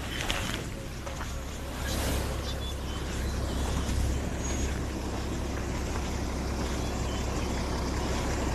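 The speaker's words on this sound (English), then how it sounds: "You can hear there's a vehicle coming up behind me." A vehicle rumbles up from behind on a dirt road on a live African safari drive, a steady low engine drone with gravel and wind noise running through the whole stretch, no voices.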